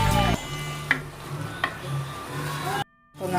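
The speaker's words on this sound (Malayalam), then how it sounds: "നമുക്ക് നന്നായിട്ടൊന്ന് ഉള്ളി വഴറ്റിയെടുക്കാം." Onions sautéing in a clay pot for a chicken curry, a soft continuous sizzle with a couple of sharp stirring scrapes, then a brief gap of near silence before the frying resumes.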